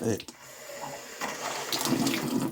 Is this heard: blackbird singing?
no